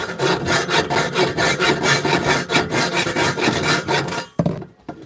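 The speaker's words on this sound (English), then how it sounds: "The slower you cut, the less burr there is." Hand saw cutting through metal pipe, a steady rhythmic rasping of back-and-forth strokes, loud and close, stopping near the end with a brief clank.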